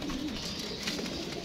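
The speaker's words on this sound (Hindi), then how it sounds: "5वां हो गया ये कबूतर" Several pigeons coo and rustle close by in a constant, busy flock murmur, with soft wing movement mixed in and no voices present.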